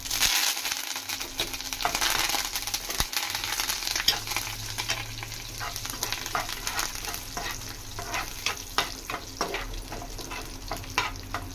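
Dry red chillies, chana dal and curry leaves fry in hot oil for mango pulihora, a steady close sizzle with crackling pops and stirring scrapes, no talk.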